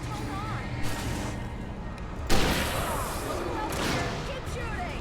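Gunfire in the Alan Wake video game, a dense stretch of shots with a sharp loud burst midway, continuing under game voices and talk.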